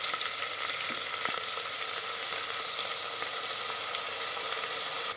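Rice tipped into a hot, sizzling pan while cooking bisi bele bath, a loud continuous frying crackle and hiss with a few scraping stirs, no voices.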